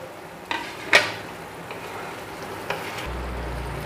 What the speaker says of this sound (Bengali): আলু আর পটলগুলো মশলার মধ্যে দেওয়ার পর 1-2 মিনিটের মতো আমি একটু ভেজে নিয়েছি